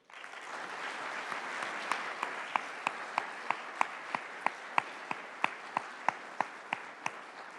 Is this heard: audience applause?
yes